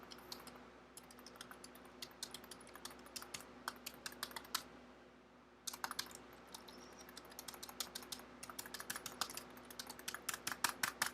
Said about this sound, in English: I'm sure you love my keyboard noises.